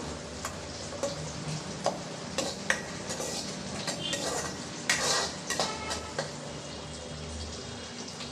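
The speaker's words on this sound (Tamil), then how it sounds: "எல்லாத்தையும் சேர்த்து நல்லா வதக்கி விட்டுடலாம்" Garlic cloves are stirred and sautéed in a pan for a kara kuzhambu, with a soft background sizzle under frequent metallic clinks and scrapes of a ladle against the vessel.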